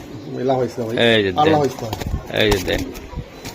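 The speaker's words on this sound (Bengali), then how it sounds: "রেস করার জন্য বেস্ট কোয়ালিটি কবুতর" Racing pigeon squabs at a pigeon farm coo close by in short, soft bursts, mixed in with nearby conversation that largely covers them.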